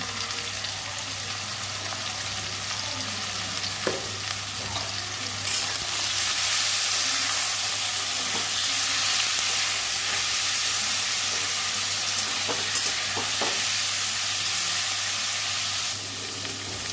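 Vegetable stalks with salt and turmeric fry in hot oil, a steady dense sizzle and hiss that runs for the whole stretch and swells in the middle, with a few faint utensil taps and no talking.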